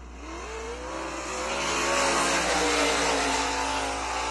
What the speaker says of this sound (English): Green flag, both cars head off into turns number 1 and 2.